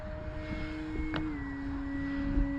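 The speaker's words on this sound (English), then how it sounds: "I'm gonna take off kind of into the wind." An E-flite Carbon Z Cessna 150T electric RC plane takes off into the wind, its motor a steady, nearby tonal whine that dips slightly in pitch partway through, with no talking.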